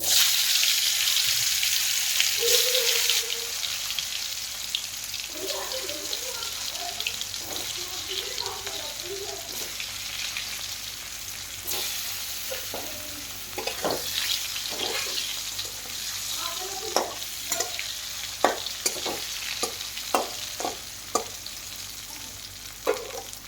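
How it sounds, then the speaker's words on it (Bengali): Potatoes dropped into hot oil in a home kitchen, a steady frying hiss running throughout, broken by scraping stirs and clinks of a utensil against the pan that grow more frequent later. "তেল গরম হয়ে গেছে, আলু দিয়ে দেবো।"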